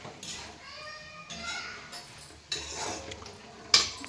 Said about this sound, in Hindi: नमक के बाद इसको चलाएंगे अच्छे से।